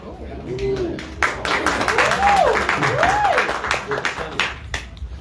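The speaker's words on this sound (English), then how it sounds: "Everyone claps for the question." A community politics forum audience claps for a question, a full burst of applause that starts abruptly and holds steady, with pigeon coos warbling through it.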